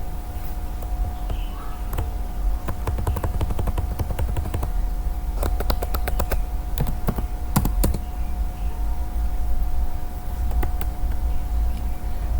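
A Linux command is typed on a computer keyboard in short bursts of close, crisp key clicks, separated by pauses, over a steady low background hum.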